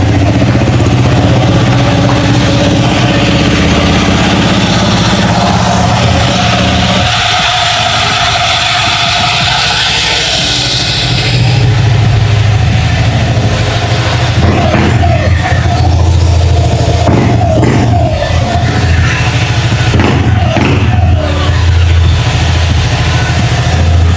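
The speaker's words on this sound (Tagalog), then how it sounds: "start muna natin yung motor natin" A Honda Click 125 scooter engine starts and runs loudly throughout, shifting tone partway as it settles into a steady idle with a rough, sputtering rumble.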